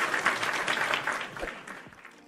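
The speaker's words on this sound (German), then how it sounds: "Und wenn einer was gut macht, dann kommt er auch ein Applaus." Applause sound effect fired from an Elgato Stream Deck soundboard: a steady burst of crowd clapping at moderate level that gradually fades out toward the end.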